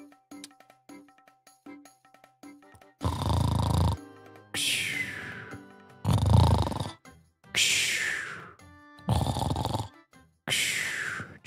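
A streamer imitates loud snoring during a live Pokémon game, six long rasping snores in a slow regular rhythm, each a harsh breathy drone separated by short pauses, with soft game music underneath at the start.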